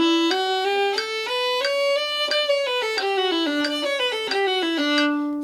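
A violin plays a slurred passage, a smooth run of many distinct notes flowing together in one bow stroke, clear and sustained with no talking.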